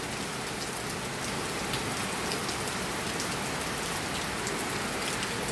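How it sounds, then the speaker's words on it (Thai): Steady rain pours at a market beside a temple, a dense continuous hiss of drops on surfaces with wind, even and close, no voices. "เวลามีฝนมาลมมา"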